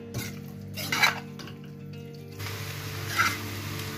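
A spoon mixes tomato spaghetti in a pan, giving close metallic clinks and scrapes in a few separate bursts over a low steady hum.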